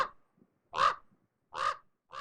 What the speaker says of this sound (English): if it sounds like a stereotypical caw, caw, caw, then you likely have yourself a crow.